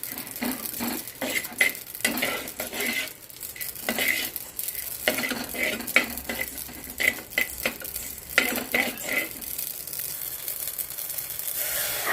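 Herbs for a herbal decoction sizzle and crackle in a hot pan while a utensil scrapes and stirs, with intermittent clinks close up.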